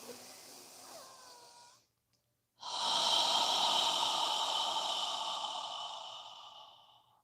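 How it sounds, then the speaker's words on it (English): A person breathes deeply: a slow, audible inhale, a short silent pause, then a long, strong exhale that gradually fades. The breath is close and heard alone, with no talk. "Continue breathing, following your breath."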